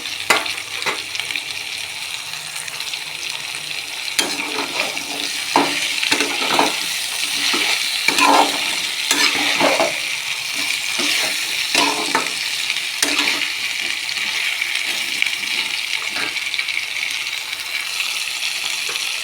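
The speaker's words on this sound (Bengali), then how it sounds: "ঝিঙে আলু খুব ভালো করে কষে নেব" Ridge gourd and potatoes stir-fried in a pan with a little salt, a continuous close sizzle broken by regular scraping strokes of a spatula over about twenty seconds.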